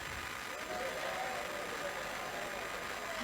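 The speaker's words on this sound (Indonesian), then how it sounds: "Sekali lagi tepuk tangan yang meriah untuk Pak Rektor" Broad, even applause from an audience at a university event in East Java, honoring the rector; a continuous hiss-like clapping texture holding steady throughout with a faint steady tone in the background.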